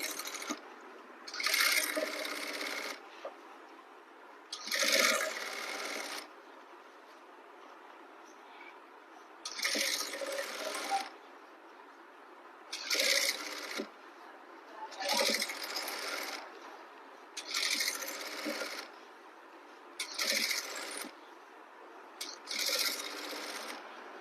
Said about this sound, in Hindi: मैं एक सिलाई लगा लूंगी ताकि ये अच्छे से बैठ जाए।